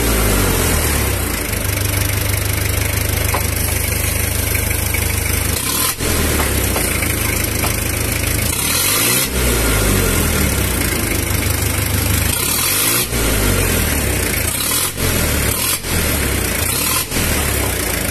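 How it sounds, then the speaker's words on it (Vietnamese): A used Japanese Iseki tractor's diesel engine idles steadily close by, a continuous low throbbing rumble with even firing and a few brief dips, with no talking. "máy nổ đều rắp các bạn thấy không?"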